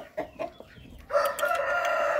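A rooster crows loudly and close by, a long drawn-out call following a few short clucks.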